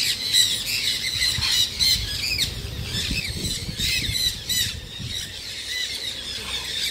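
A large parrot squawks and shrieks repeatedly at a cafe, harsh loud calls in irregular bursts over a busy background murmur.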